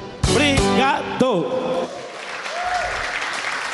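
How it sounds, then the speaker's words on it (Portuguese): A brief burst of clapping rises after a few cheers and voices, then settles into scattered applause with crowd noise from a TV show studio audience. "Esta é uma salva de palmas muito merecida, José, José de Brito, aqui."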